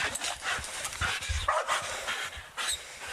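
A sheriff's office police dog pants heavily and gives a few short barks and whines nearby, the sound steady and close with little else around it.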